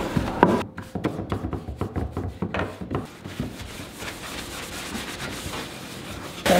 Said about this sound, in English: We're gonna white wax it to add some more age and get down in all the nooks and crannies of the wood.